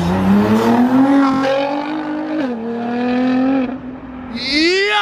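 A high-pitched Nissan GT-R V6 exhaust with four 3.5-inch tailpipes revs up and falls back repeatedly, loud and close, with a sharp rising rev at the end.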